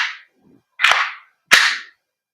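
A WE Glock 17 Gen 5 airsoft gas blowback pistol fires two crisp, loud, close shots with sharp hissing cracks about a second apart, following a faint gas puff at the start.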